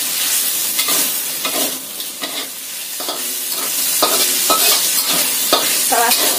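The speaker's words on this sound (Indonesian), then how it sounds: "Kita tumis sampai bawang merahnya ini layu dan bawang putihnya itu tercium aroma enaknya." Shallots, garlic and chili sauté in a hot pan, with a continuous close sizzle broken by repeated scraping strokes of a stirring utensil and no talking.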